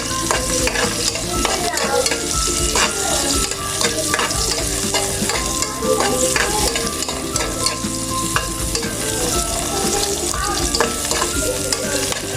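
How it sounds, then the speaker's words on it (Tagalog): Onions stirred and frying in a pan for a chicken tinola-style dish, a steady loud sizzle with repeated scraping of the utensil through the pan, no voices. "Lagyan na natin yung sibuyas. Halo-halo."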